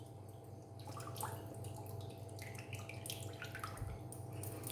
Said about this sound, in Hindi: और इसको अच्छे से टाइट दबाकर इसका पानी निचोड़ देंगे